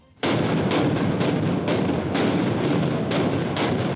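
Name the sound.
explosions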